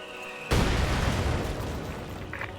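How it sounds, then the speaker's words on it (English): A mortar shell bursts against a church in Company of Heroes 2, a sudden loud boom that starts abruptly and rolls into a long, slowly fading rumble, with a quieter tone heard just before the hit. "Robert's mortar is blasting away the church, doing a very good job"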